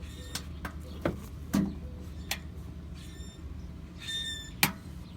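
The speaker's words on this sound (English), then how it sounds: "Sorry for the birds." Birds calling outside near a garage, with sharp chirps and squawks scattered across several seconds over a quiet background hum, fairly faint and intermittent.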